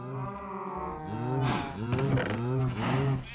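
Cows mooing on a Minecraft cow farm, several drawn-out moos one after another, loud and close with overlapping calls.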